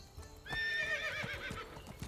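A horse neighs loudly and close in the video game Medieval Dynasty, a long whinny rising and wavering over about a second and a half, with soft clip-clop hoof steps tapping underneath and continuing after it fades.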